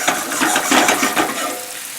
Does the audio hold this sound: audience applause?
no